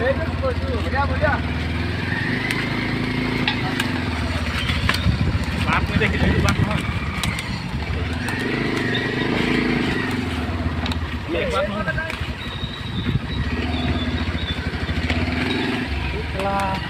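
A motorcycle engine runs steadily close by along a forest road, its low rumble swelling and easing over time while people talk over it throughout.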